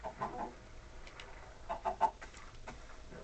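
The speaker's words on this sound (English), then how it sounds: "Chicken!" Chickens in the video game Minecraft cluck in several short, bright bursts spread over a few seconds against a faint background hum, with no talking.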